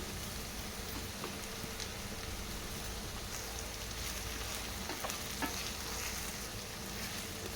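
Okra pieces and onion sizzling in hot oil for a Telangana-style okra stew, a soft, steady crackle and hiss with scattered pops, fairly faint and unbroken by speech.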